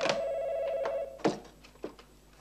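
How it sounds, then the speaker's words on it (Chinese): An old telephone bell in a 1977 Hong Kong drama rings in one sustained burst, then falls silent as the handset is picked up with a couple of clicks. "啱我有电话嚟"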